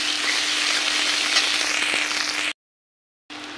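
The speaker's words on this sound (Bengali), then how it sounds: "পেঁয়াজটা ভাজি হয়ে গেলে এবার মশলাটা আমি ভাজি করে নেব" Ginger and garlic spice paste frying loudly in a pan, a steady dense sizzle that cuts out abruptly partway through and then resumes.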